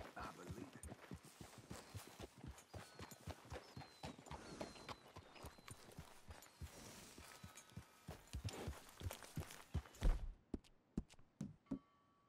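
Steady clip-clopping horse hooves in the video game Red Dead Redemption 2, a fast regular rhythm of sharp knocks close by, with a few heavier thuds and a pause near the end.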